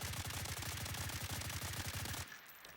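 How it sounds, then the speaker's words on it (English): Sustained rapid automatic gunfire from a bipod-mounted weapon fired while standing at a wall in Blackhawk Rescue Mission 5, loud and steady for about two seconds before stopping abruptly into quiet. "Let's try to shoot at the wall while standing."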